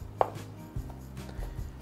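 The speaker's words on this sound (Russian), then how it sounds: "Я всегда предпочитаю вначале нарезать тонкие пластинки, а затем эти пластинки порезать поперек." A knife slices beef tenderloin into thin strips on a cutting board, a few soft, separate chopping knocks in a quiet kitchen.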